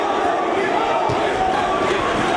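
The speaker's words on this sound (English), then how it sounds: "And look and listen to the crowd here in Elizabeth. They're on their feet for Loki" A wrestling crowd at a Ring of Honor show in Elizabeth roars steadily and loudly, a dense continuous wash of cheering and shouting from a standing audience with no pauses.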